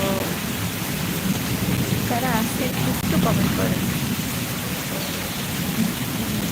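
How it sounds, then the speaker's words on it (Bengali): Steady, dense rain pours down in Dhaka, a constant close wash of drops with possible low thunder rumbling beneath, while someone talks over it throughout. "বৃষ্টি কিন্তু থেমে যাচ্ছে বৃষ্টি কিন্তু থেমে যাচ্ছে"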